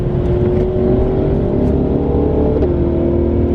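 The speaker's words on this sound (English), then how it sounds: "Oh, he's got some cool mods, done the reflectors and exhaust." A car with a modified exhaust and a 3-liter engine accelerates hard on the road, a loud, close, steady engine drone whose pitch dips briefly toward the end.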